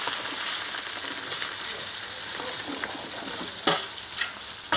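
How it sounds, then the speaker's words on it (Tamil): Steady crackling sizzle of spices tempering in hot oil for Jaffna duck biryani, with a few sharper pops and stirring scrapes near the end. "அண்ணன் அண்ணா என்ன செய்கிறீங்க? தாளிக்கிறார் பாருங்க."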